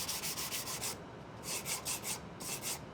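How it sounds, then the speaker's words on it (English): A glued wooden music box is sanded by hand in steady back-and-forth strokes, with a soft, rhythmic rasp in three bursts and short pauses between them, close and quiet. "Next, I'll sand the whole thing and soften all the edges."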